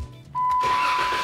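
A car engine turns over and catches, then settles into a steady, loud idle with a constant whine, heard close and alone after a brief quiet start.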